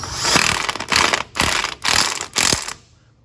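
A cordless impact tool drives size 13 bolts on a tractor trailer wheel, four short rattling bursts in quick succession, close and loud, each ending abruptly.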